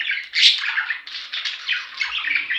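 Second-clutch budgerigar chicks chirp in a continuous, close, busy chatter of high squeaky calls, with no pauses and no talking.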